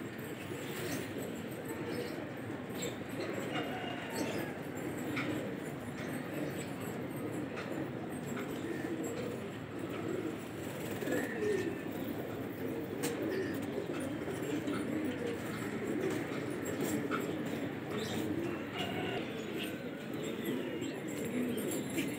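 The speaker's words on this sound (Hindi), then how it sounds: "भाई ये कबूतर है" Pigeons, lalban and ghagre breeds, coo in low, repeated murmurs against a busy background hum, with occasional distant clatter and faint voices.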